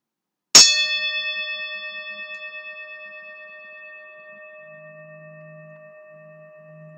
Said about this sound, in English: sound therapy with the tuning forks, but I will hit it against the metal bowl